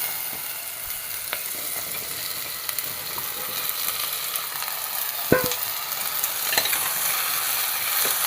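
Tomato, curry leaves and mixed vegetables fry in hot oil for a vegetable fish curry, giving a steady crackling sizzle throughout with occasional stirring scrapes and one sharp knock near the middle.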